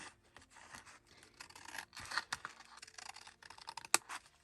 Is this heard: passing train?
no